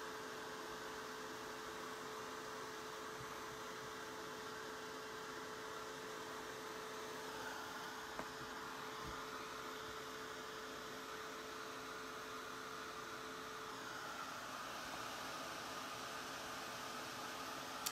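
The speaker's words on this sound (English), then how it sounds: "I'm sure liking this little dryer." A small electric dryer blows steadily to dry paint on a pink and white bench, a faint continuous airy whoosh with a light motor hum, no voices heard.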